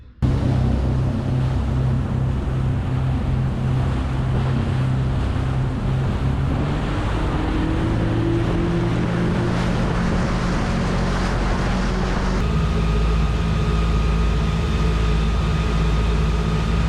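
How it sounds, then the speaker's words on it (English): A jet ski runs across the water with a continuous, close engine whine, choppy wave slap, and wind buffeting on the mic, the motor pitch shifting as it moves. "I have some short clips of me on the jet ski"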